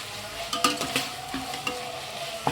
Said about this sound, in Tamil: தக்காளியும் போட்டுட்டு நல்லா வதக்கிடுங்க